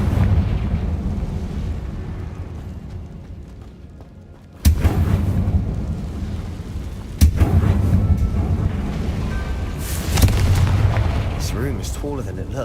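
Explosive Confringo spell blasts in Hogwarts Legacy land as a few sharp, booming bursts over a dense rumbling game backdrop, with loud cracks near the middle and a lingering low roar between them.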